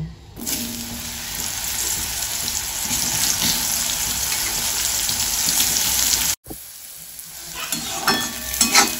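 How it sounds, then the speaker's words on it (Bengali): Mushrooms fry in hot oil with a steady, loud sizzle and crackle. After a brief cut the hissing grows more uneven, with sharper pops near the end. "তেল আমার গরম হয়ে গেছে, এবারে মাশরুমটাকে আমি ভেজে নেব।"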